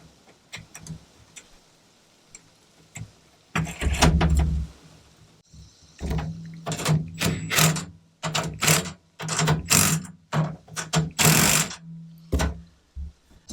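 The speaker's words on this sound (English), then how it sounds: "you'll see why I'm tightening this in a minute." Stainless steel hardware being tightened on a Roam 95L rugged case, heard as a series of sharp clicks and ratcheting bursts in quick clusters, close by, with quiet pauses and no talk.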